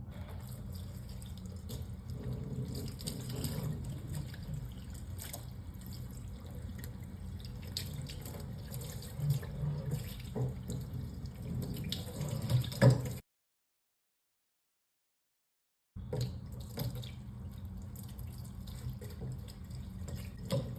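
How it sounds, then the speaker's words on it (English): Water from a tap streams onto the corrugated sides of a cardboard box, a soft steady splashing that cuts out briefly and then resumes. "I will turn on the water and I will just shoot some down the corrugated sides"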